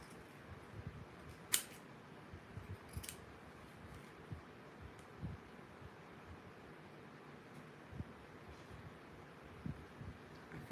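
Scissors snipping through two folded layers of craft material at once, a few quiet, isolated crisp cuts spaced seconds apart over a faint hushed room background.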